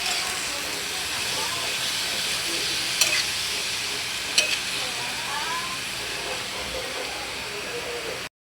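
A pan of simple pulutan boils and sizzles with a steady frying hiss, broken by a couple of sharp scraping clicks as it is stirred.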